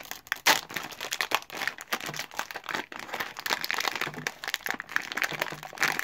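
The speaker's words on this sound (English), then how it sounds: "with much crinkling into your ears" A plastic packet of Tuc seeds and chives crackers crinkles and crackles up close as it is pulled open, in quiet irregular bursts.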